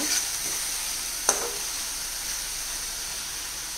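Tomatoes sautéing with turmeric and chili in a pan, a steady close sizzle and hiss with a brief stirring clatter partway through.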